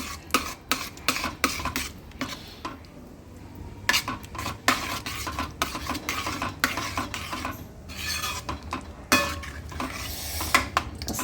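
Buttery pav bhaji stirred in a pan, a spoon scraping and clinking against the metal in quick repeated strokes, close and fairly loud, with a faint sizzle underneath and no voices.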